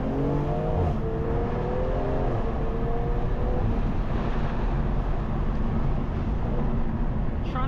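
A BMW M340i tuned to about 500 hp accelerates hard on the road in a steady, loud engine pull with rising tones early on. Broadband wind and road roar run throughout, and no one speaks.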